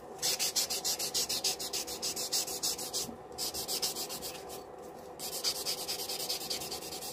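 A nail file smoothing and buffing acrylic nails, rapid rhythmic back-and-forth rasping strokes close up, with two short pauses partway through and no talking.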